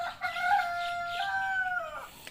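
A hen sick with a cold gives a single drawn-out, wavering call lasting about two seconds, close and fairly clear against a quiet background.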